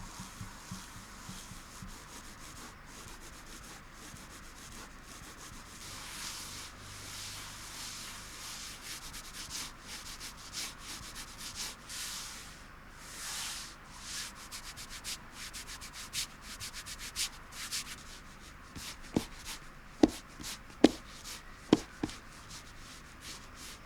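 A computer mouse slides back and forth across an X-raypad Aqua Control Pro Neon mousepad, giving a soft, close, sanding-like rub with a textured scratch. It stays faint and steady, and a few sharper taps or knocks come near the end.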